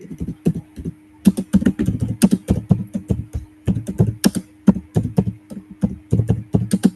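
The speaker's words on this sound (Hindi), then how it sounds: "क्यों इतना टाइप कर रहे हो" Rapid typing on a computer keyboard, close and crisp, with bursts of clacking keystrokes and brief pauses, no voices.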